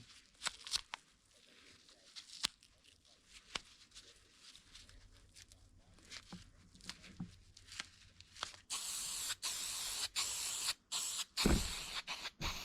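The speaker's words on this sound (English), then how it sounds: "I'm going to spray paint the bottom brass with gold spray paint." Gold spray paint hisses from an aerosol can onto the brass-capped legs of a 1950s mid-century modern three-drawer dresser, a steady loud spray in the final seconds after quieter taps and handling noises.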